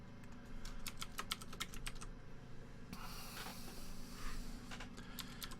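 Fingers type on a computer keyboard during programming: close, rapid runs of key clicks, a brief breathy hiss midway, then more quick tapping, with no talking.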